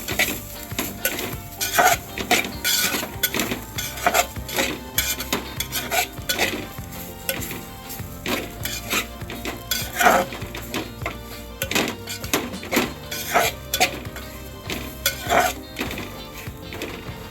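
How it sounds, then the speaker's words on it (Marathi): A spoon scrapes and knocks against a pan while green chillies are stirred with sesame seeds, crushed peanut powder and salt over a low flame. Repeated metallic clinks and scrapes fall in an irregular rhythm over a faint sizzle. "हे सर्व हळू आपण मंद गॅसवर हलवून घ्यायचं एकत्र"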